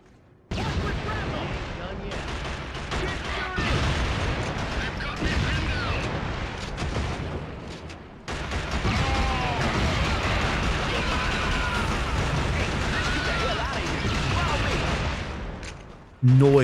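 Rifle gunfire and battle noise in a shooter video game, sustained dense shooting with bursts and explosions over about fifteen seconds, loud and continuous, with voices talking over it.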